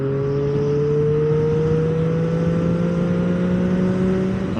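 Loud and close, a Triumph Street Triple three-cylinder motorcycle rolls on the throttle in sixth gear from 60 to 90 mph. A steady whining drone climbs slowly in pitch over wind rush, with no talking.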